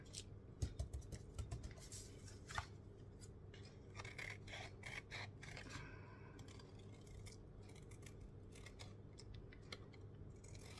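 Scissors snipping through a Project Life card image for a junk journal, a steady run of quiet close cuts and paper rustles throughout, with no talking.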